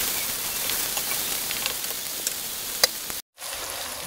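Onions fry in a pan for a bitter gourd curry, a steady close sizzle with faint pops and crackles, briefly cutting out near the end.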